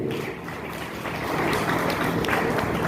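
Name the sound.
audience applause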